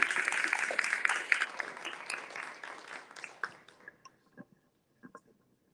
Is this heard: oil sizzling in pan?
no